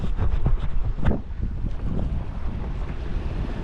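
A sailboat heels under wind off the west coast of Baranof Island, Alaska, heavy gusts buffeting the microphone over rushing water and hull noise, loud and close with a sharp gust burst near the start, no voices.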